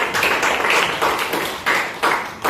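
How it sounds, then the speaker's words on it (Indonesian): A classroom of students claps for a classmate in a few rhythmic bursts of close, fairly loud hand claps, the pattern repeating in short pulses. "Kasih tepuk tangan untuk Savana"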